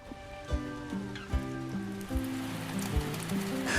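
Steady rain pattering on a surface through a rainy day, an even wash of drops under faint harmonic tones and soft periodic thumps, with no talk over it.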